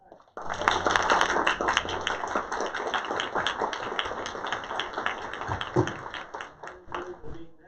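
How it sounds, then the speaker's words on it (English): Audience at a school district board meeting clapping for service members, a steady, dense round of applause from a roomful of people that swells quickly, holds for several seconds, then thins out. "maybe we could give a round of applause"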